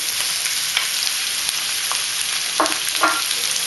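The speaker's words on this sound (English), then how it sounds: "And I'm just going to saute that up and get it softened" Onions, carrots, celery and mushrooms sizzle steadily in a hot pan, sautéing for a leftover pork Thai stir fry, with a few soft scrapes of stirring.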